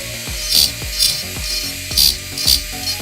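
A Dremel rotary tool fitted with a slow-speed bit carves wood in a series of short bursts, each a loud rasping grind roughly every half second, close up with no talking.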